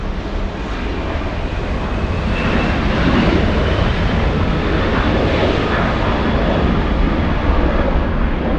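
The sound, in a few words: Korean Air Boeing 747-8 jet departing LAX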